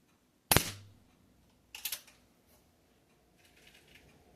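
Umarex Ruger Mark IV .177 air pistol firing at a target: two sharp cracks, the first louder, about a second apart, each followed by a brief decay and faint later clatter, with no voices.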